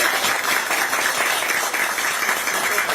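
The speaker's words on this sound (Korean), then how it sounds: "박수 한번 부탁드립니다" A crowd at a Korean political campaign rally applauds steadily, a dense, even wash of clapping that carries on without pause at moderate volume.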